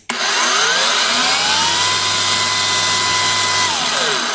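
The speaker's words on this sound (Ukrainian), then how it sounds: "Зараз будемо пробувати пилососити" Angle grinder fitted with a vacuum blower attachment from AliExpress, vacuuming a mat: a loud, continuous high-pitched motor whine that spins up and then winds down at the end, with no talking.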